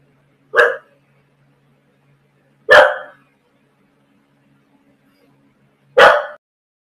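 A dog barks three times in the background, each bark sharp and separate and spaced about two to three seconds apart, with quiet between them and no talking.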